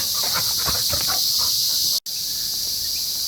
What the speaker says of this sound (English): the cicadas are fading a little bit today